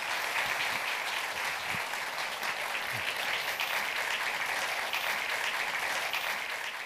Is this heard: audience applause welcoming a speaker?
yes